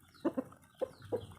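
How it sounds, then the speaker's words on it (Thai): Burmese-breed fighting chickens cluck in short, close bursts, a pair of quick clucks followed by two more spaced calls, with quiet farmyard air between them. "ไก่พวกนี้ เป็นสายพันธุ์พม่า"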